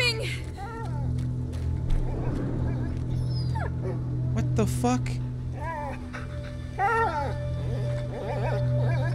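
A dying dog whimpers and yips in the video game A Plague Tale: Innocence, high broken cries repeating over game music, with someone speaking over them.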